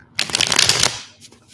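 A deck of reading cards shuffled once, a short close riffle of crisp flutter lasting under a second, followed by a faint brief rustle.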